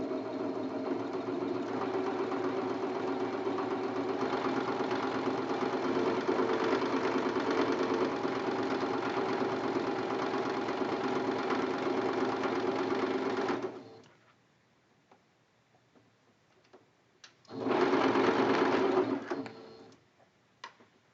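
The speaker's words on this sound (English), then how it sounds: "I'm going to turn it around and now sew a 1/4 inch away from the line on the other side." Sewing machine stitching a quilt block seam a quarter inch from a marked line, a steady whirring run for about fourteen seconds, then a pause and a shorter second burst, close and alone.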